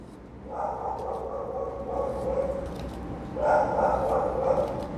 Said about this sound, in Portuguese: o cachorro do vizinho tá latindo.